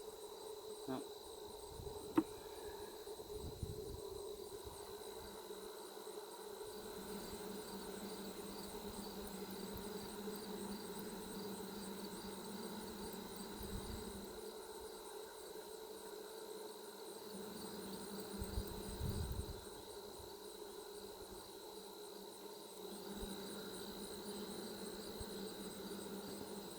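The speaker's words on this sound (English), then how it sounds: "Those bees are trying to festoon." Honey bees buzzing at an open hive, a continuous close hum with steady drone tones throughout, and occasional soft handling noises and quiet voices nearby.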